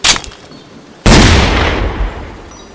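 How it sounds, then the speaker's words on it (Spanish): A single sharp revolver gunshot cracks loudly and decays into a long reverberant tail, preceded by a brief smaller burst, with no talk over it. "El disparo le dio de lleno en el pecho, lanzándola hacia atrás"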